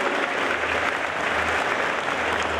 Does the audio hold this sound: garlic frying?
no